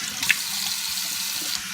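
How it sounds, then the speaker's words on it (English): Warm tap water runs steadily into a bathroom sink for face washing, a constant close hiss with a small splash near the start. "So I wash with warm water at first and then I use cool water"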